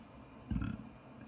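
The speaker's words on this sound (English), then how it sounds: "Sorry about the burp, it's a byproduct of carbonation." A single short, deep burp follows a carbonated drink. It is close and low-pitched and lasts about a third of a second amid otherwise quiet room tone.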